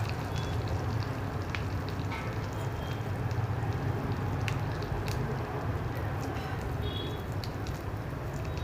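Dry red chilies and asafoetida crackle in hot oil for curd rice, a steady close sizzle with scattered sharp pops running evenly throughout.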